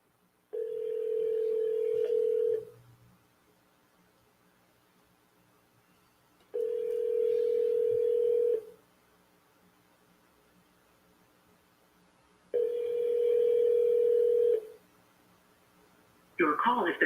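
Telephone call ringback tones ahead of a voicemail greeting: three long, steady, evenly spaced beeps separated by about four seconds of silence, clear and close, before another sound cuts in at the end.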